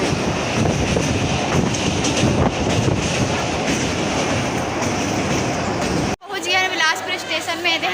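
A passenger train ride near Bhatapara and Bilaspur stations, with continuous loud rumbling and rattling of the cars and a brief drop near the end, under chatter.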